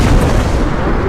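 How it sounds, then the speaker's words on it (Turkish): A loud, heavy blast as a bomb goes off in the game Content Warning, a brief booming burst of low rumble and noise lasting about a second. "Bomba atıyor."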